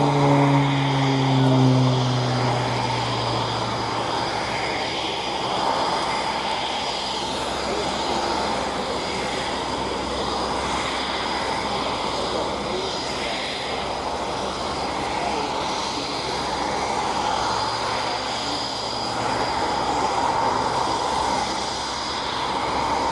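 A display aircraft at the RNAS Yeovilton air show sets up for a loop, its engine roaring loud and steady with a sweeping pitch early on, while a commentator talks over it.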